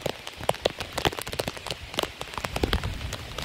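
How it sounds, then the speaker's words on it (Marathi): Steady rain pattering over flooded paddy fields in a Konkan village during rice transplanting season, a dense wash of close drops with scattered louder taps and no voices. "पावसाने पण सुरुवात केलेली आहे."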